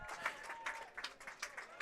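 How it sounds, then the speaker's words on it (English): Crowd applause at a California Winter League baseball game between the Washington Blue Sox and the Alberta Grizzly, faint and distant, steady clapping with a few sharper peaks. "The massive applause from this crowd really says it all."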